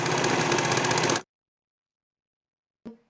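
A sewing machine stitches a pocket seam on pull-on pants, a fast, even mechanical whir running close and loud for just over a second, then stopping dead, followed by a single short clunk after a pause.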